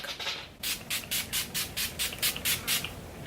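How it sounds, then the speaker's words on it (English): About ten quick, evenly spaced hissing spritzes from an Urban Decay makeup setting spray bottle, close and crisp, after a brief moment of quieter sound. "we're going to use our Urban Decay setting spray, and we're just gonna take that all over"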